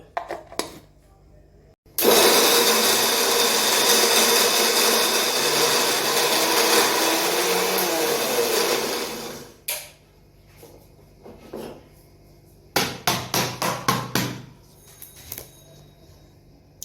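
An electric mixer grinder grinding coconut chutney dry, a loud whirring roar running for about eight seconds, then stopping, followed by a few short bursts near the end.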